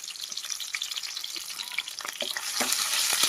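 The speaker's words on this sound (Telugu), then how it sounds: "ఉల్లిపాయలు అయితే బాగా ఫ్రై అయ్యింది." Onions and green chillies frying in hot oil for a chicken fry, a steady, close crackling sizzle with scattered sharper pops that grows louder and busier toward the end, with no voices.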